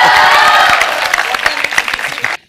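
A television studio audience claps on a comedy show, a loud burst of many hands with some cheering that thins out and stops abruptly after about two seconds.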